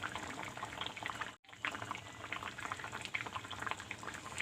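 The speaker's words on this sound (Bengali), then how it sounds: "আমরা একটা অন্য পাত্রে এটা ঢেলে নেব।" Ridge gourd and potato curry poured from a pot into another vessel, a bubbly liquid splash that runs steadily with one brief break, close by.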